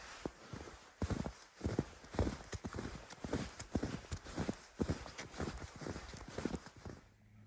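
Steady, rhythmic footfalls crunch along outdoors, close by and continuous, with a hollow clopping quality.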